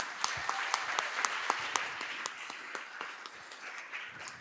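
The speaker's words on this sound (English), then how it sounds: "So give a round of applause for them." Audience applause at an anniversary celebration event on sustainability and entrepreneurship, a steady field of many hands clapping with sharp individual claps standing out, moderately distant and gradually thinning toward the end.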